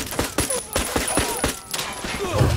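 Rapid gunfire in Ghost Recon Wildlands during a firefight at an Unidad base, with a string of sharp close shots in uneven bursts over a background rumble.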